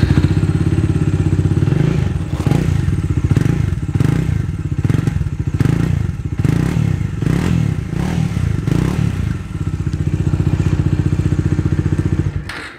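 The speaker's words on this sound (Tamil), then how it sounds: "ஸோ இந்த எக்ஸாஸ்ட் நோட் வந்து கொஞ்சம் பேஸியாக இருக்குங்க" Bajaj Dominar 400 BS6 2020 motorcycle engine idling steadily after starting, a loud, close, bassy exhaust rumble with a slightly uneven throb, running alone for the whole stretch.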